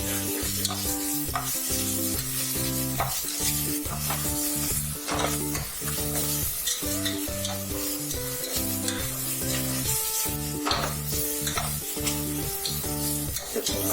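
Semiya (vermicelli) roasts in hot oil for a vermicelli biryani, giving a constant close sizzle with stirring scrapes, partly under tonal background music.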